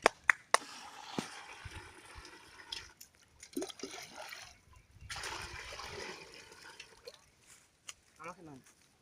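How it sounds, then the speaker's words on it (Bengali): Water drawn from a pond for washing clothes in Hooghly, West Bengal: intermittent splashes and pouring gushes between sharp knocks, with people talking nearby. "উনি পুকুর থেকে জল তুলে নিয়ে গিয়ে কাপড় ধোবেন"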